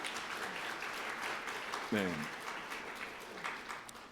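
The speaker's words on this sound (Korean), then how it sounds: "우리 한번 박수로 축하드리고요." A church congregation applauds during a New Year's Eve service with steady, moderately distant clapping, while a voice briefly speaks over it.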